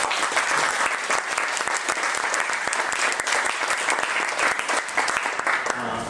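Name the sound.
audience applause for the team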